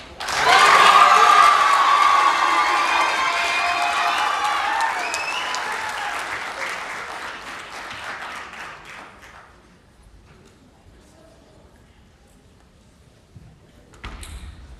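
Audience at a Pasifika Fusion speech event breaks into loud applause and cheering that peaks early, then thins and fades over several seconds to near silence, with a short burst of sound returning at the very end.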